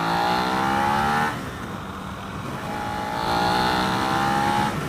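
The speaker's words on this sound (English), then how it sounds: "Let's give it the gas in 2nd here." A Suzuki SV650 motorcycle accelerates hard in second gear, its engine note climbing loudly, easing off briefly, then rising again in a second strong surge.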